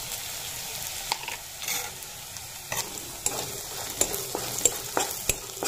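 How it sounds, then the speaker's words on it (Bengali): Whole cumin seeds sizzle in a small amount of oil while being stirred, cooking as the base for a duck curry. The sound is a soft, steady crackle broken by scattered scrapes and light clicks of a spoon against the pan. "তো জিরাটা দিয়ে এইভাবে করে একটুখানি নেড়ে চেড়ে ভেজে নিব"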